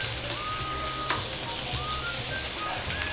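Sliced onion sizzling loudly in hot oil with cinnamon, cloves and cardamom for a pepper chicken dish, a steady close crackle with faint stirring scrapes.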